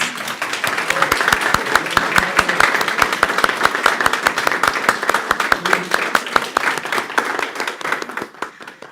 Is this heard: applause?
yes